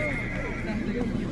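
A horse whinnies at a livestock horse market in Sokuluk, Chuy region, a drawn-out neigh that is close and fairly loud. Voices and crowd murmur carry on underneath it.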